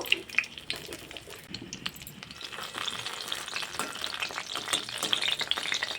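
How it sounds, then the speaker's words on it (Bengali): Pointed gourd (potol) pieces fry in hot oil in a kadai, giving a steady, close sizzle with scraping and stirring clatter throughout. "এবার পটলগুলোকে ছেড়ে দেব কড়ার মধ্যে আর একটু ভেজে নেব পটলগুলো"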